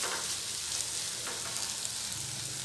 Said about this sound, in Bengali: তিন চার মিনিট ভেজে নেওয়ার পর সমস্ত সবজিগুলো সফট হয়ে এসছে